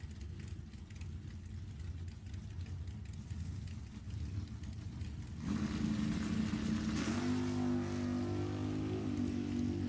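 Drag racing at an NHRA event, a 2016 Dodge Ram truck and a 1967 Dodge RT lined up side by side, engines idling with a rough mid-range rumble before one revs up louder and holds a steady tone, no voices.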